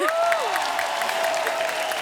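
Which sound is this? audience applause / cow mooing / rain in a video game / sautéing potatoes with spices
audience applause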